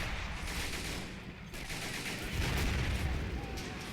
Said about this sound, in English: Yeah, there goes a rocket.